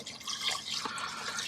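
Distilled water pours steadily into an Instant Pot of chicken, rice and potato soup, a soft continuous splashing stream heard close without speech.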